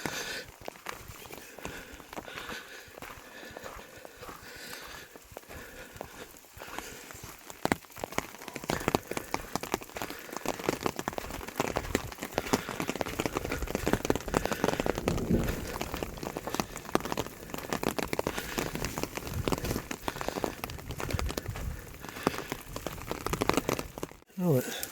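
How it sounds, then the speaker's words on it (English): Hail falling during a thunderstorm on a mountain trail in Pine Valley, Utah, a dense, steady patter and crackle of pellets striking the ground and gear close by, growing louder partway through. "it decided to even hail on me"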